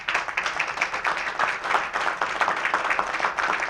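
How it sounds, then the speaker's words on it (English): Applause for panelists at a discussion event fills the room as a steady wash of many hands clapping, moderately loud and continuous throughout. "A big round of applause for these panelists."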